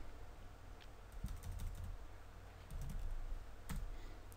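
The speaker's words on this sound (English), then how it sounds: "We'll type move." Keys tapped on a computer keyboard while entering commands in AutoCAD 3D modelling software, a few soft quick clicks in short bursts, close and faint over a quiet room hum.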